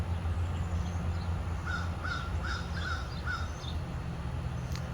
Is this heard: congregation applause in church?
no